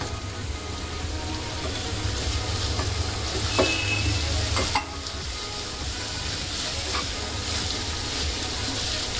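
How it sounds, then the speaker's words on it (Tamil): Grated coconut with ginger sautés in a pan on a low flame, giving a constant soft sizzle with occasional scraping strokes of a spoon, and one brief sharp clatter partway through. "லோ ஃப்ளேமில் வச்சுங்க, அப்போ தான் வதங்கிறதுக்கு நல்லாயிருக்கும்"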